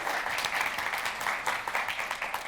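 Steady applause from a conference session audience, many hands clapping together at a moderate distance, continuous throughout.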